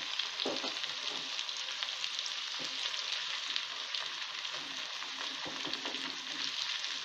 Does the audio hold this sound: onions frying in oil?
yes